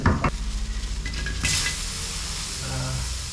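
Catfish sizzles as it is laid into a hot pan, opening with a few sharp clattering knocks, then a bright burst of frying hiss that settles into a quieter steady crackle.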